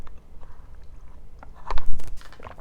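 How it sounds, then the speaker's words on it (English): A person drinking gulps audibly close to the microphone, with a couple of soft, wet swallowing sounds near the end after quiet room tone. "Excuse my gulps."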